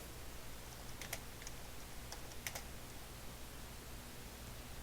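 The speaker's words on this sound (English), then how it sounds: "I'm typing something." Faint, sparse bursts of typing on a computer keyboard, a few quick clicks at a time with long gaps, over a steady low hum and soft background noise.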